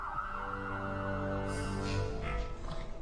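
A wailing emergency siren rises and sways, close and fairly loud, with some clattering noise near the end.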